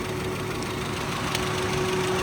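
A 2001 Honda Prelude, due for a major overhaul and with some smoke coming from the tailpipe, idles with both fans running, a steady, even drone at moderate distance with no talk.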